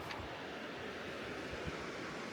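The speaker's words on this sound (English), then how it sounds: "आपको पानी की आवाज़ आ रही होगी because there's a lovely brook out there" Water flowing in a brook along a mountain trek trail through oak forest, a steady soft rushing wash with no pauses and no voices.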